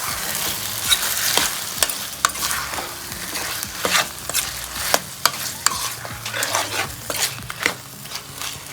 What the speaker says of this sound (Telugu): వేసుకొని ఒక్కసారి ఇటు తిప్పుకొని